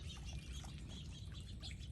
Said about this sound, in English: Oh, that's a little songbird.